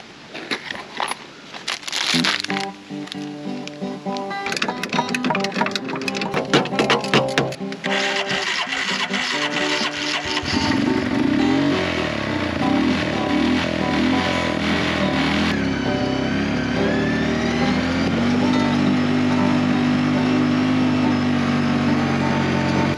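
A neglected Yamaha ATV with a newly replaced fuel pump: clattering mechanical clicks and knocks at first, then the engine settles into a steady running drone that wavers in pitch as it revs.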